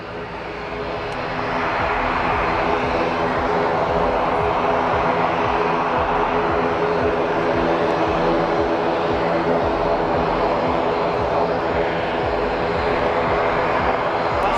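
A Ryanair airliner approaching Madeira airport in a flight simulator game produces a steady, loud engine drone that swells in during the first two seconds and then holds constant, with no voices over it.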